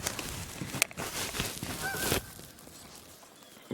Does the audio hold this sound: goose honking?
yes